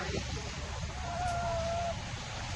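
Chickens, including Leghorn, country and broiler breeds, cluck softly in a chicken shop against a busy background hum, with a thin high tone drifting through the middle.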